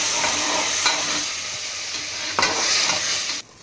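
Ground masala fries in a pan with pitika pappu sambar, sizzling loudly while a utensil scrapes and stirs it in a few sharp strokes, then the sizzle cuts off abruptly near the end.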